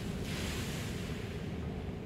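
Steady ocean surf in the video game Shadows of Doubt, a continuous low wash of waves rolling on without pause, fairly soft and heard alone with no talk.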